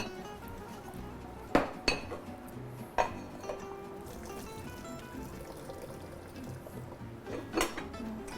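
Cooked cauliflower is drained from a pot, soft trickling under a few sharp clinks and knocks of the metal pot, fairly quiet and close.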